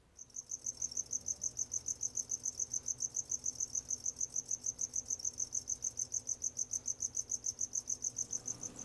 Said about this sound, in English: There's 500 crickets in this little box.